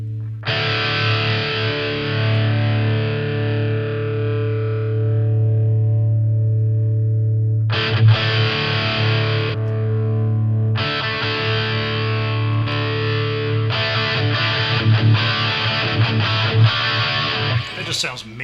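Electric guitar played through a Mooer GE300 distortion and overdrive, a loud, heavily saturated sustained chord that slowly decays, then sharp new strums and a dense run of driven, chugging riffs that ring on to the end.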